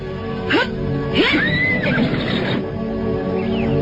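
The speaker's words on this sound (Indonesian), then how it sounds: "aku yang harus menuntun kuda ini menyeberangi sungai" A horse being led across a river neighs loudly, a shrill whinny that rises and then wavers down, over steady rushing background noise.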